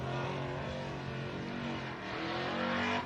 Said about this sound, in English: Truck sounded good.